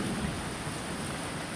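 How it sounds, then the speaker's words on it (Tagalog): Heavy rain pours steadily on a rural farm field during a storm, a dense, even roar of drops that stays loud and unbroken from start to finish, with no voices. "Ang lakas pa naman ng ulan."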